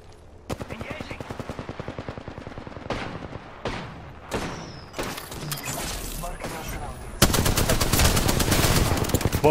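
Rapid automatic gunfire in an Apex Legends match, with bursts of sharp rattling shots, a pause, then a dense sustained volley at the end, close and loud amid reload clicks.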